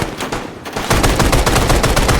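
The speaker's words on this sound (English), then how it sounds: "So now we're just shooting each other." Close-quarters Arma 3 firefight with rapid, loud automatic gunfire and bursts from an M16A4, shots fired through aluminum building walls; a short quieter stretch, then dense continuous shooting to the end.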